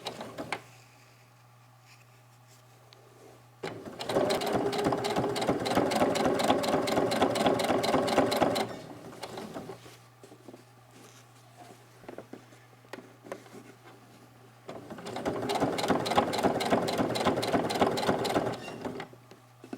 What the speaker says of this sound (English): we just want to sew right along the edge